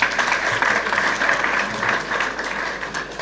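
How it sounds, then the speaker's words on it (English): Audience applause for a technical university at a youth entrepreneurship and leadership event in Ghana, a dense, continuous patter of many hands clapping close by, steady in level from start to finish. "Let's clap for them."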